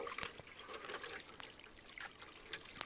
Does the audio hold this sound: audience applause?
no